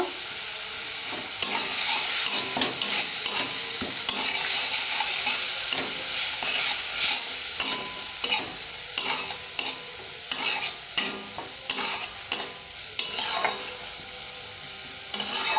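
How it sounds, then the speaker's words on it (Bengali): Mango curry is stirred and fried in a pan with turmeric, making a continuous sizzle broken by repeated scraping and clattering stirs of a spoon against the pan. "এইভাবে ভালো করে কষে নেব"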